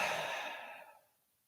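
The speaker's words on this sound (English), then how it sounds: "Release the exhale through the mouth" A slow exhale through the mouth during a morning breathing exercise: one soft, breathy sigh, close and quiet, fading out after about a second.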